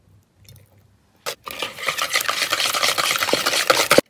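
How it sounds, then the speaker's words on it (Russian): Egg being whisked in a bowl with salt and oil for vareniki dough: a quick tap, then a brisk, continuous rattling and scraping of whisking for a few seconds, close and fairly loud. "Чуть-чуть взбиваем."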